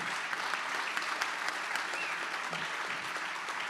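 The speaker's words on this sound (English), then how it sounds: "Clap." Applause from an audience at a live-streamed government integrity gathering, a steady, dense wash of clapping that carries on evenly for several seconds without any voices.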